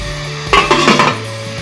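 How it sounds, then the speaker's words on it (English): A metal lid goes onto a cooking pot of plain water set to boil, one loud clattering clank with a brief ringing rattle as it settles, close by, with no talk. "Stick the lid on"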